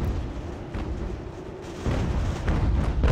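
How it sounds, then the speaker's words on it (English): Cannon fire on a battlefield in Ultimate General: American Revolution, heard as continuous low rumbling booms that swell louder near the end, with no talking over it. "They're already firing at us from their bloody cannons."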